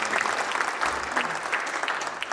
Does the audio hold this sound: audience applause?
yes